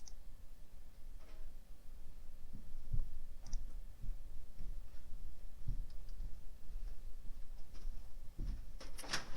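Computer mouse clicks while text templates are picked in a web design tool: scattered, sharp little clicks at irregular intervals, close by, over a low steady room hum.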